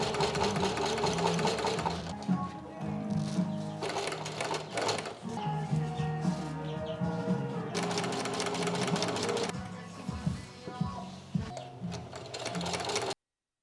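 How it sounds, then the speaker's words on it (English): A sewing machine stitches car seat upholstery in fast mechanical bursts of whirring and clatter, stopping and starting several times with short pauses between runs, close and loud. "Basically just have to sew the whole perimeter to itself."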